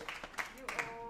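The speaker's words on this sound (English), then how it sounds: "give him a big round of applause" Short patter of scattered hand claps from a small group at a school board of education meeting, light and brief.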